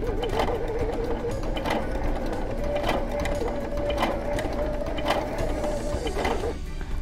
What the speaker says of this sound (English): So now let's take a look at the needle and begin stitching.